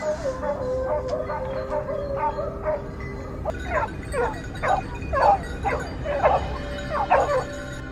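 Pack of hunting dogs barking and yipping at the edge of a forest, a rapid run of overlapping excited barks at moderate distance that grows denser and louder over a steady outdoor background.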